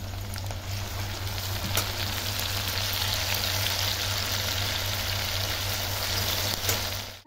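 Chopped ginger and spring onion whites frying with garlic in oil, a continuous even sizzle with a low steady hum beneath and a few faint clicks.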